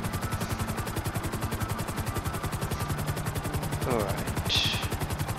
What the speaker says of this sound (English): but I've got a helicopter,